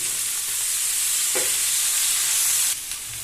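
Eggplant pieces fry alongside peas and potatoes in a pan, giving an even, close sizzling hiss with a single stirring scrape in the middle, dropping slightly quieter near the end.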